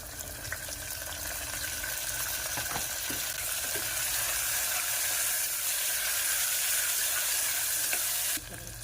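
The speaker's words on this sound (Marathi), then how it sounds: "कांदा आपला भाजलेला आहे त्याच्यामध्ये टोमॅटो टाकूया" Fried onion and tomato sizzle steadily in a pan for chicken biryani, a loud close hiss with occasional stirring clicks that drops slightly in level near the end.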